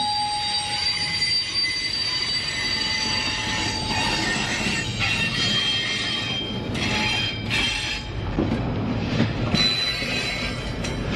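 Norfolk Southern train led by CSX EMD diesel locomotives switching in a yard, loud continuous wheel squeal and rolling rail noise with shifting high-pitched screeches, close by and alone without voices.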